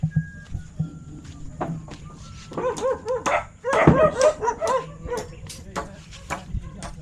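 Dog barking and yipping beside a new nipa hut in a rural Philippine setting, a burst of sharp barks in the middle with lighter yaps around it, close by, with people shushing and calling to it.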